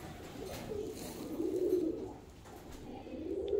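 Budapest Deres Goylak tumbler pigeons in a loft give low, soft cooing that swells and fades in long phrases, steady throughout and fairly close, with no talking.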